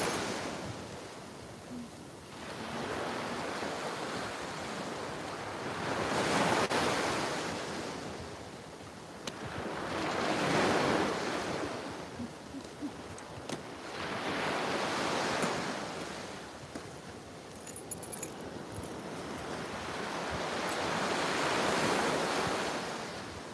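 Ocean waves roll onto a beach during a walk, each surge swelling and fading in a slow, regular rhythm of roughly four-second cycles, moderately distant with steady wind hiss underneath.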